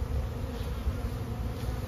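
Honey bees buzzing around a hive with a single brood chamber, a dense steady hum close by with no talking.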